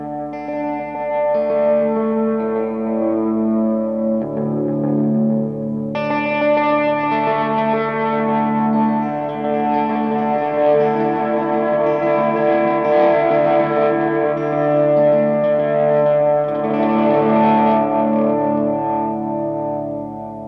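Ambient electric guitar runs through effects pedals including delay, chorus and distortion, with notes swelling in softly without pick attack. Sustained, layered tones wash continuously over twenty seconds, loud and reverberant with no voices.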